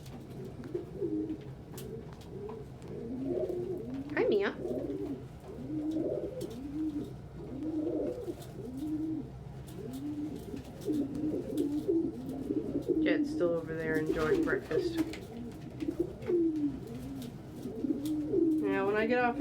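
Pet pigeons or doves coo at breakfast in soft, repeated rolling calls near at hand, while a woman chats to them over the cooing.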